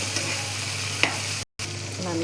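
Tomatoes frying in oil in a pan, a constant close sizzle with a brief crackle partway through and a momentary dropout, no speech.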